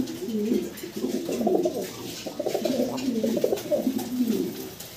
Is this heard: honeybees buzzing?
no